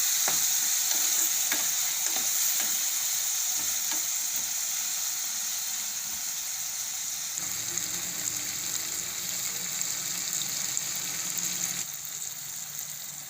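Tomatoes cooking down in a pan for a tomato and drumstick curry, a steady close sizzle with stirring scrapes throughout and a softer bubbling simmer toward the end.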